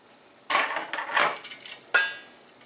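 Seasoned baby back ribs being coated for frying, with grease heated to 350 degrees: a few close clattering, scraping bursts like a pan or utensil being handled, separated by short pauses.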